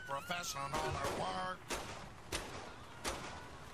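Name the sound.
gunfire shooting at car tires in Saints Row the Third video game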